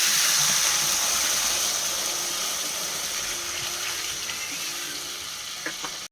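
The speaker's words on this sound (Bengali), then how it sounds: "কষানো হয়ে গেছে, জল অ্যাড করা হচ্ছে।" Water poured into a cooking chhanar dalna curry with potatoes, producing a loud hissing rush and sizzle that slowly fades, ending with a small stir, no speech.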